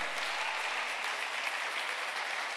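A church congregation applauding to acclaim the Holy Spirit during an evangelical service, a dense, steady wash of clapping from many hands that holds evenly throughout, with no speech over it.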